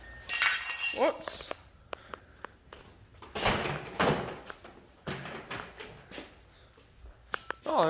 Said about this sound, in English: Oh, there's some glass.